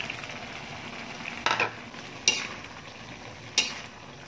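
Sotanghon noodles sizzle softly in a pot, with a low steady frying hiss broken by three sharp utensil knocks as they are stirred, close by and faint, with no speech.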